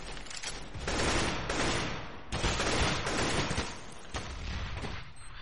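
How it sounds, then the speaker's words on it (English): Sustained automatic rifle spraying in CS:GO on the Mirage map, a dense, loud stream of rapid gunshots in bursts with short breaks, steady and close. "Oh, some spraying there from Nerve."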